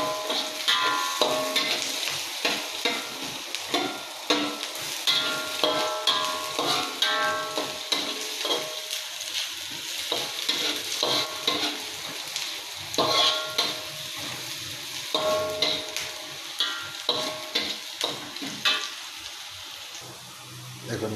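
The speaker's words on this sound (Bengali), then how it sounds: "আমি এটা সুন্দর করে ভেজে নেবো, হালকা বাদামি কালার হবে ততক্ষণ আমি ভাজবো" Flattened rice (chire) tossed and fried in a pan: a continuous busy crackle and rustle of grains with frequent spatula scrapes, close up, a faint voice now and then underneath.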